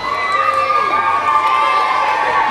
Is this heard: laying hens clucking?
no